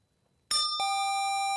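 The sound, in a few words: quiz show bell ringing to end answer time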